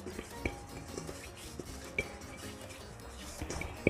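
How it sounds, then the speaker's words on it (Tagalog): A metal mixing bowl being handled while it is coated with oil for wheat pandesal dough, with soft scrapes and a few sharp clinks scattered over a quiet kitchen background. "Gagamitin ko ulit yung ating mixing bowl."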